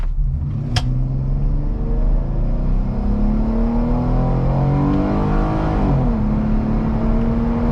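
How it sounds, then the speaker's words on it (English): A Jeep Wrangler Sport 2-door V6 engine revs hard and steadily climbs in pitch with a rising whine, loud and close, then shifts gear and keeps pulling. "you hear that whine at the top end of this engine"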